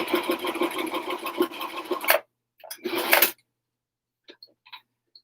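Sewing machine running a seam in slippery fabric, a close, rapid rhythmic whir for about two seconds, then a short second burst, followed by near silence with a few faint clicks.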